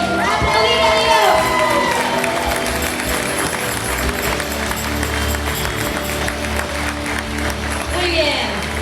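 A church congregation claps and cheers, a loud, dense wash of applause with shouts and whoops rising over it, sustained throughout with excited voices mixed in.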